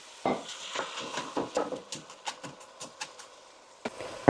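Frozen diced onions, celery and carrots are tipped into a hot oiled pan, with scattered clattering, scraping and stirring knocks of a utensil against the pan, light and fairly close, with a faint sizzle underneath.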